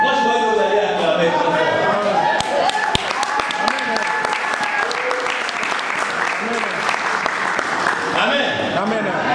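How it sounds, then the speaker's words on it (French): Audience applause fills a church sermon hall, sustained dense clapping from a crowd throughout, with a voice speaking over it. "Moi, je vois que vous allez acclamer."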